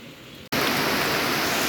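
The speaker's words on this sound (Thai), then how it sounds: "ขนาดตอนนี้ก็ยังฝนตกเลย" Steady rain falling, a loud continuous hiss that starts abruptly after a brief quieter moment and holds at full level, no voices.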